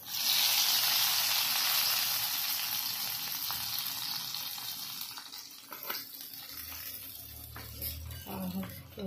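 Red chillies and pink-browned garlic sizzling in hot ghee, a loud, steady frying hiss that fades slightly over time, with faint stirring clatter and a low hum near the end.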